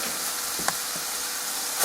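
Vegetables sautéing in a pan, a soft, steady sizzle and hiss with a faint clink partway through, quiet and close with no talk.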